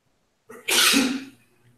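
A single sneeze, sharp and close, preceded by a brief inhale and trailing into a short breathy tail, in an otherwise quiet room.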